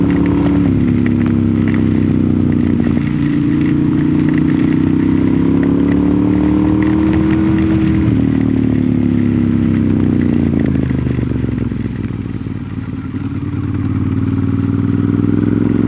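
Motorcycle with no weather protection ridden on a wet mountain road in the rain, its mid-pitched engine droning steadily and loudly close by with slight rises and falls in revs, along with wet road and wind noise throughout.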